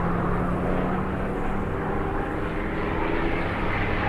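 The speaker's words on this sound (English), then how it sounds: "His plane buzzed across the sky." A Spitfire propeller plane drones steadily overhead, its engine a continuous loud hum with a low buzzing tone throughout.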